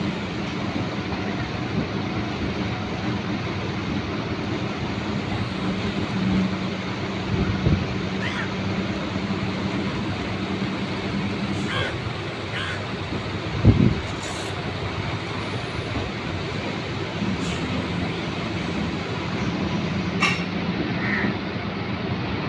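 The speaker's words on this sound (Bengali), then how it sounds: "হলদিয়া স্টেশনে ঢুকছে।" A local train runs into Haldia station with a steady rumble and rattle of wheels on the track, plus a few brief knocks and clanks over about twenty seconds.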